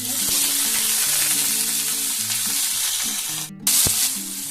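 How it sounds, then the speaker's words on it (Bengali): Dried red chili, cumin and five-spice seeds fry in hot oil, giving a loud, steady close-up sizzle that dips briefly near the end and then bursts back, with a faint tune running underneath. "এবার তেলে দিয়ে দেব একটা শুকনো লঙ্কা একটু জিরে ফোড়ন আর একটু পাঁচ ফোড়ন"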